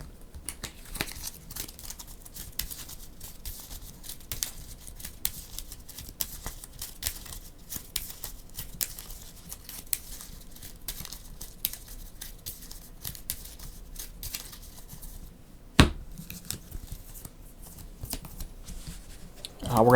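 Marvel Champions playing cards shuffled and handled at a tabletop game, a steady close papery riffling and crinkling running throughout with scattered ticks and a sharper snap near the end, no talk over it.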